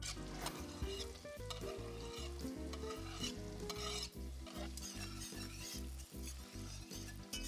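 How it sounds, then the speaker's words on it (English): Chopped onion frying in melted butter in a preheated pot, a steady broadband sizzle with occasional stirring, partly covered by a loud rhythmic music track with a heavy beat throughout. "Once the butter is melted, we're gonna add our chopped onion."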